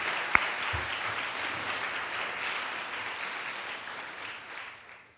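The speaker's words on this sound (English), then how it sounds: "Can we give them a huge round of applause" Audience applause at an awards ceremony, a sustained wash of many hands clapping in a large room that holds steady for several seconds and then fades out.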